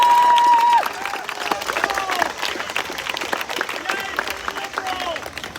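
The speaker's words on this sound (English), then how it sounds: "So let's give her a round of applause." Crowd at a political rally in Loudoun County over CRT in schools clapping and cheering in a dense, sustained burst, with a loud tone at the start fading into steady applause and scattered voices.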